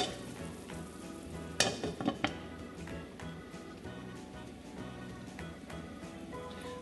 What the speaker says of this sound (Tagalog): So tatakpan muna natin ito at ituloy lang natin yung pagluto.